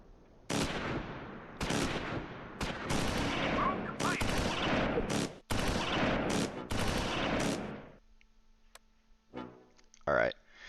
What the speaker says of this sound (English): we're just taking cannon rounds to the face